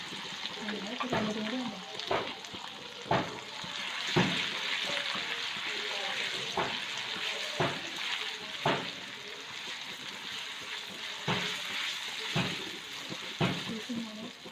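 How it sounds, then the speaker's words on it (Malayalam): Ginger garlic paste sizzles steadily in hot oil in a pan. Sharp clacks of a spoon striking the pan recur at fairly regular intervals while it is stirred, all heard close. "ആ എണ്ണ ചൂടായി വരുമ്പോഴത്തേക്ക് നമുക്ക് ഇഞ്ചി വെളുത്തുള്ളി പേസ്റ്റ് നമുക്ക് ഇട്ട് കൊടുക്കാം."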